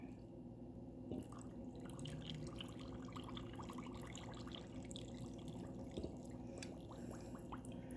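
Hot milk poured slowly from above over a hot cocoa bomb in a cup, a faint continuous trickle and splash with scattered small drips, close and quiet, with no talking.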